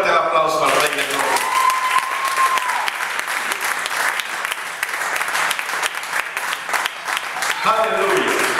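A church congregation applauds loudly and steadily throughout, a dense crowd of clapping with faint voices and a sustained tone underneath.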